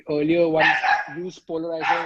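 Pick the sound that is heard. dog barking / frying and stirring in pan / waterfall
dog barking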